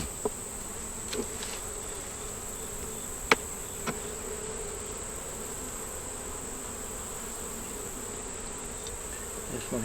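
Honey bees in a hive box, working frames cleaned of wax moth damage, make a steady close buzzing drone that holds throughout, with a few light clicks and taps on the wood.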